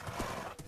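A short Minecraft horse whinny with a brief clatter of hooves, heard alone and fairly quiet.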